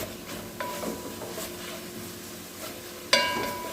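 Ingredients browning in a pot for pumpkin seasoned rice in coconut milk give a quiet, steady low sizzle, with a few soft stirring scrapes and a sharper clink of a utensil against the pot near the end.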